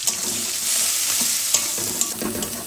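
Spices, onion and tomato fry in oil in a wok, giving a steady close sizzle with scraping stir strokes and a few light clinks, no talk.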